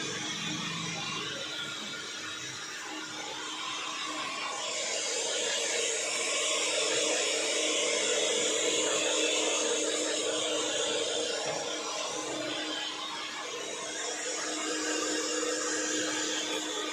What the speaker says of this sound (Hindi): अब हो रहा है हेयर ड्रायर